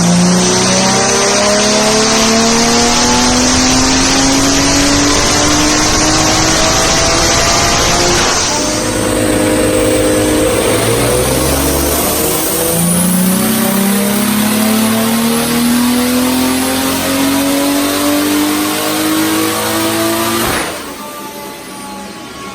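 BMW 335i with an N54 engine converted to a big single turbo, running port injection and E85, revving hard on a dyno. Loud sustained pulls rise steadily in pitch, with a shift partway through and a whistle in the top end.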